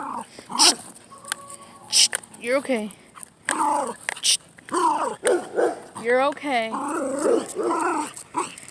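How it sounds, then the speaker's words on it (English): A small dog on an evening walk outdoors growls and whimpers in repeated short, moderately close bursts, mixed with a person's voice speaking soothingly over the dog. "You're not a big dog. You don't need to be mean."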